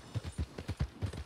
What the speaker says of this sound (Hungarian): Jó ló lesz ez.